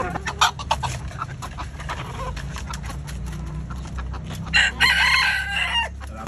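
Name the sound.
hen clucking while brooding on twelve eggs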